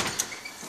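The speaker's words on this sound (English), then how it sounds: "Got the front door open." A front door swinging open at a house, a brief soft scrape and click near the microphone with no voices.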